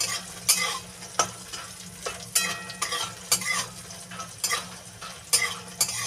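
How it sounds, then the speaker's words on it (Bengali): Homemade bori (dried lentil dumplings) fry in oil until red, a soft sizzle punctuated by sharp, uneven clacks and scrapes of a utensil stirring and knocking the pan, close and without speech. "ভালো করে এটা ভেজে নেবো লাল লাল করে"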